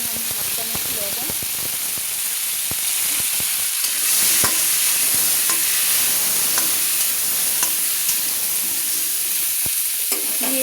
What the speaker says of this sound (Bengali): এগুলোকে আলুগুলোকে আমি লাল লাল করে ভেজে নেব ফুলকপি দিয়ে চিকেনের ঝোল করার জন্য